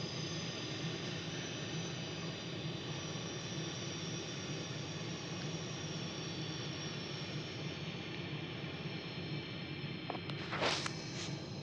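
Steady, loud jet engine roar with airflow hiss from a large airliner taking off in a flight simulator game, constant throughout with a brief sharper burst near the end.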